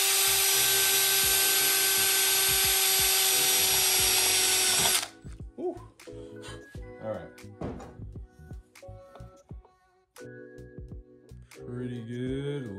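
Power drill bores the final hole for an eBay snorkel on a 100 Series Toyota Land Cruiser, a loud, steady high whine for about five seconds, then stops as scattered clicks and handling noises follow and someone talks.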